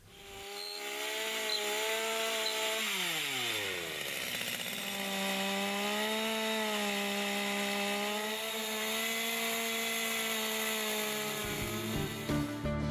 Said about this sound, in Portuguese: Aqui nós vamos fazer a marcação e furar para poder passar o arame.